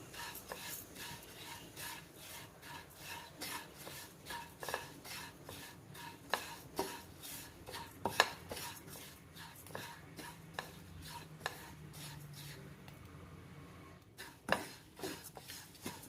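About a cup of oats being dry-roasted on medium heat and stirred in a pan on the stove: soft, irregular scraping and rustling with occasional clinks of a utensil against the pan, quiet and close.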